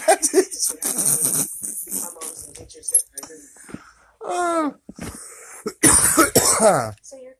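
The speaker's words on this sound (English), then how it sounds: "Why did I cough?" A person coughs several times in short harsh bursts, mixed with throat-clearing and bits of talk, close to the microphone.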